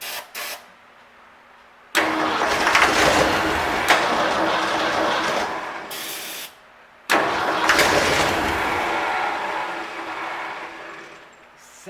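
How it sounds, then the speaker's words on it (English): Car engine cranking and catching twice, each time running rough with a clacking rattle and a noticeable exhaust leak, loud and close, cutting out briefly between the two runs. "Something's clacking pretty good."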